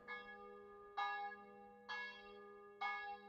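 Church bells ring in four loud, evenly spaced strikes about a second apart, each with a bright metallic ring that decays slowly before the next. No voices are heard.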